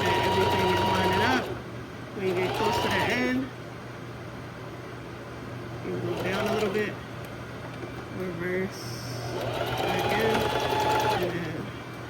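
Sewing machine stitching a crochet jacket in several short runs of fast, whirring buzz separated by pauses, with a person talking over and between the bursts.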